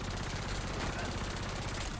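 Continuous rapid automatic gunfire with heavy recoil in the video game Black Ops 7, a dense unbroken burst filling the whole stretch at steady loudness, with a voice partly beneath it.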